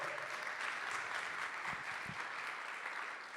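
Audience at the Inércia 2024 opening ceremony applauding, a sustained dense round of clapping in a hall holding at even loudness and easing slightly at the end, with no speech.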